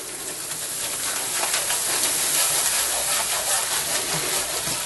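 Flour added to hot oil for a gumbo roux sizzles in a pan, a dense, continuous close hiss that stays even throughout.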